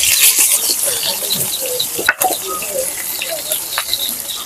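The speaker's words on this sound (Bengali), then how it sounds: "মরিচ দুইবারে মাছটা ভাজে লইলাম" Fish seasoned with turmeric and chili fries in a pan, a steady dense sizzle with bubbling crackle running throughout, close and fairly loud, interrupted by one brief utensil knock.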